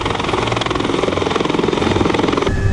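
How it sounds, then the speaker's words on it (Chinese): A helicopter flies overhead with loud, rapid rotor chopping pulsing steadily at close range over an engine drone, no voices. "外面那台直升机在嚣张，也不会太久了。"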